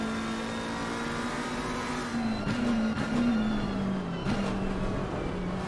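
A race car in Assetto Corsa Competizione, a steady engine drone that dips and shifts as it brakes hard into a chicane, with quick downshift blips and other engine noise around it.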